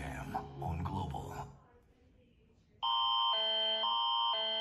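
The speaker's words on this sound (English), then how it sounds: "Canada's is very similar to the US's, but the alarm sound is quite intense." Canadian emergency alert system alarm: after a few seconds of talk and a quiet gap, a loud, intense, steady multi-tone electronic alarm starts abruptly and holds, stepping between pitches.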